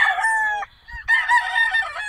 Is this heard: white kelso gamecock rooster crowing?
yes